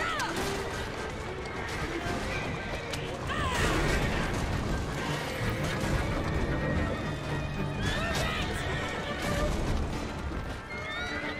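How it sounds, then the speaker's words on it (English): A horse neighs and whinnies in the video game Assassin's Creed Syndicate, with hoof clip-clops, mechanical clatter and a crash amid busy game sounds and some voices. "Wow, I killed the horse."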